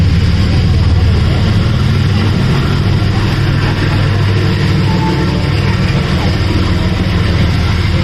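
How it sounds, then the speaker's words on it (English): A diesel locomotive hauls a long-distance train from Kerala toward Mumbai, giving a steady, unbroken low rumble and drone that holds at an even level for the whole stretch. "There is a diesel engine going."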